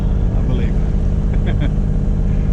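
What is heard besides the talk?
Bavaria 41 sailboat motoring under engine power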